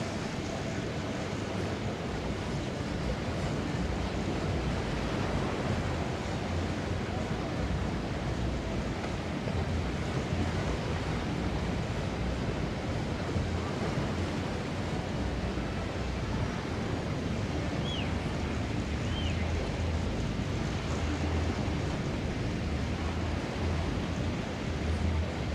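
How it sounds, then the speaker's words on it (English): Waves lap the shore at a triathlon swim on Sir Bani Yas island, a steady unbroken wash of surf with wind rushing over the microphone and no voices throughout. "Back down the waves, lapping the shore."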